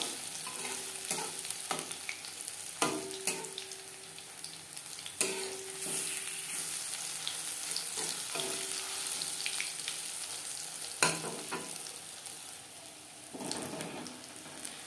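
Battered food frying in oil, a continuous low sizzle with occasional stirring clinks and scraping knocks from a utensil, moderately close and without speech.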